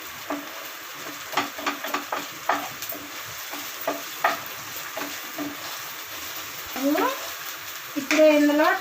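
Ingredients for egg dosa fry in a pan, a low sizzle with a run of quick spatula knocks and scrapes, and a voice speaking near the end.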